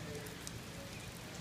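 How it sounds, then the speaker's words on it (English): Steady rain falling outdoors, a continuous soft hiss of drops on surfaces with occasional faint patters, even and unbroken throughout. "And it's raining once again."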